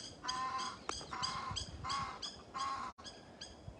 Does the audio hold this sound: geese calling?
yes